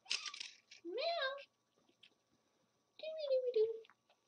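Kittens meow twice in thin, falling cries a couple of seconds apart, close by, with quiet rustles and soft clicks between them during a weigh-in.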